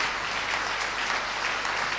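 A church congregation gives a steady round of applause and acclamation to welcome a pastor, a dense wash of clapping heard at moderate distance.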